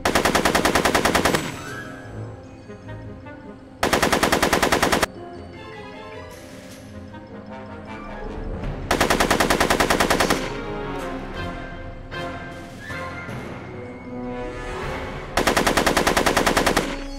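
Gunfire in the PC video game Back to the Future, loud bursts of rapid automatic shots in several separate volleys, with quieter game sounds between them.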